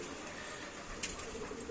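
Pigeons kept on a small farm coo softly amid a constant hiss of background noise, a short low call standing out near the middle.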